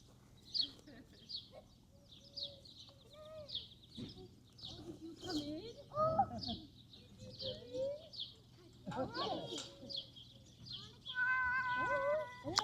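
A pet cat on an alpaca farm in Clovis, New Mexico meows several times up close, with people talking and birds chirping in the background.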